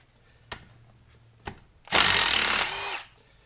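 A power tool whirs in one loud burst of about a second while removing the shifter mechanism from a 2014 Ford Focus ST transmission, preceded by two sharp metallic knocks.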